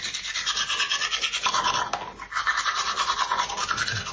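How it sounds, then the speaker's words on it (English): A toothbrush scrubs teeth close up in quick, steady back-and-forth strokes, a raspy bristly swish that continues throughout with a brief pause midway. There is no talking. "for teeth brushing, toothbrush goes in the left wing, toothpaste right wing"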